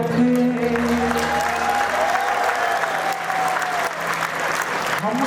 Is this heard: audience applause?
yes